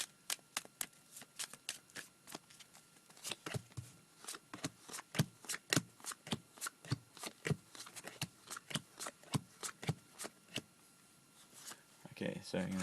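Stak Bots game cards being shuffled close up, a fast string of sharp papery riffles and taps in uneven bursts, clear and alone with no talk.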